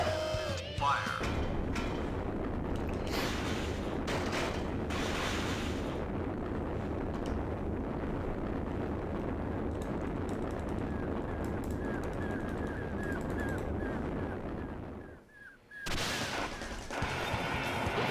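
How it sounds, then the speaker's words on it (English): A video-game missile launch gives a sustained loud, roaring blast that fills the space for many seconds, then briefly drops away before the roar resumes. "Missile launch in 15 seconds."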